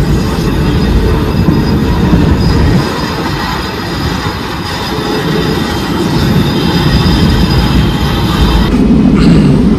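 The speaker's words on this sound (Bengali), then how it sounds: "যশোর রোডের পাশে মেট্রো পৌঁছে গেছে।" A Kolkata metro train on a pre-trial run near Jessore Road, on the Noapara to airport line, rumbling loudly and continuously close by with rail and wheel noise and a faint squeal, no talk.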